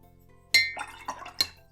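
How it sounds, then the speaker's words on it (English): A watercolor paintbrush is rinsed in a glass jar of water, giving a couple of bright clinks against the glass with a brief watery swish between them, close and clear in a quiet room. "I'm rinsing out my brush, kind of dabbing it dry a little bit"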